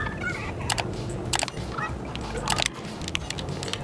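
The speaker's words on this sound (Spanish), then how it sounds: "lo primero que vamos a necesitar es conseguir una gallina, una como estas" A chicken clucks in a video game, brief repeated squawks and clucks over a steady game backdrop, moderately faint.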